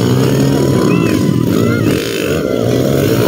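A motorcycle engine revs loudly and steadily up close, a constant rough roar with a slight dip partway through, recorded outdoors on a rocky riding trail with voices faintly present.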